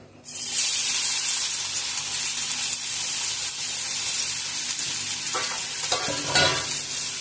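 Chopped onion frying in hot oil: a loud, continuous close hiss that starts abruptly and holds steady, with a few faint utensil scrapes near the end and no talking.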